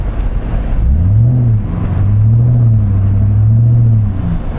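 A Corvette C6 Grand Sport's engine and exhaust roar loudly as the car accelerates, a deep rising drone that climbs in pitch, dips at a shift, then climbs again steadily throughout, with no talking.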